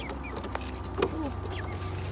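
Backyard chickens give a few soft clucks and short calls amid steady low outdoor noise, with brief scuffs and faint sounds around them.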